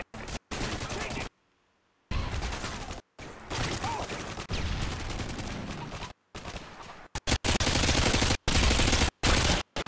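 Rapid gunfire bursts in the video game Modern Warfare 2 (2009) during a team deathmatch, loud chattering volleys cut by abrupt silences, with faint speech in places.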